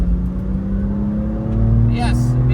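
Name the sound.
AC Schnitzer BMW M2 driving a lap at the Nurburgring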